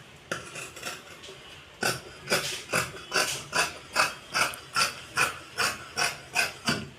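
Scissors cut chudidar fabric for a 35-inch body size in a tailoring class, a close, crisp run of rhythmic snipping strokes that settles into an even repeated pace.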